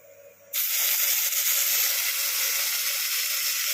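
Onion, ginger and garlic spice paste hits hot oil for an egg korma, setting off a sudden loud, steady hiss of sizzling that continues without a break.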